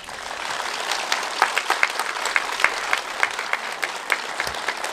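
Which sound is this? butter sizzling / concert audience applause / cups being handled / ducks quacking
concert audience applause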